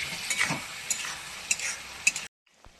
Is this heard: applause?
no